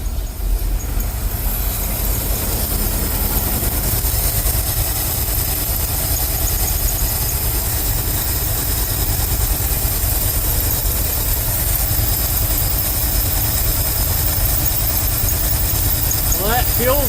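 Ford F350 dump truck with a carbureted engine running slightly rich, a steady loud low rumble idling throughout, close by, with no talking over it.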